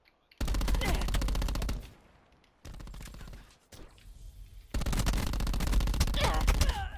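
Rapid automatic gunfire in the video game Black Ops 4, long sustained bursts separated by short pauses, loud and close with a rattling, steady rhythm.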